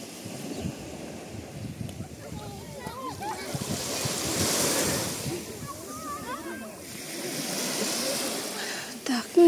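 Evening sea surf on a beach in Odesa, a steady wash of waves swelling and receding at moderate loudness, with wind noise and people's voices and other beach activity mixed in throughout.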